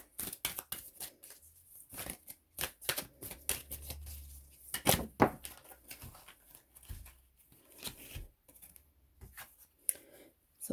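A deck of tarot cards is shuffled and cards are pulled, giving quiet, scattered papery flicks and soft riffling bursts with short pauses between them.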